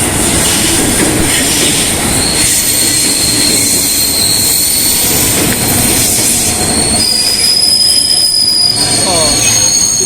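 A loud commuter train rolls past close by at a Jakarta station, with high metallic wheel squeals and a steady rumbling roar throughout.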